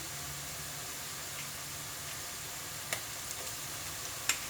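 Browned onions with ginger garlic paste and green chillies sizzle softly in a pan for a potato capsicum curry, a faint steady frying hiss with a few small ticks and clinks of stirring.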